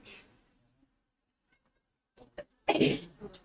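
A single short, sharp sneeze rings out at a live property auction, near and loud, after a couple of faint clicks in an otherwise quiet room.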